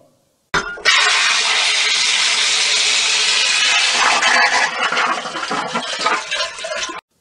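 A toilet flushes in a home bathroom, a loud rushing gush of water that starts abruptly and then pours steadily for several seconds before tapering, with no voices.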